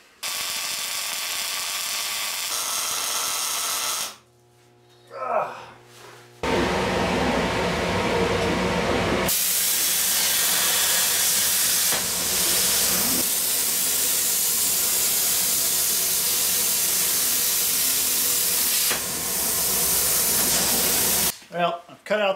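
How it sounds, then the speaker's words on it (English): Spring mounts being welded onto a shipping container dolly frame, a loud continuous hissing crackle in long sustained bursts with brief pauses between welds, close up. "So I'm going to weld these in real quick"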